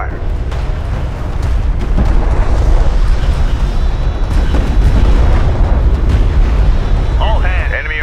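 Artillery fire support explodes in the desert warfare game Homeworld: Deserts of Kharak, deep rumbling blasts rolling continuously and loudly, with a radio-style voice announcing over the barrage.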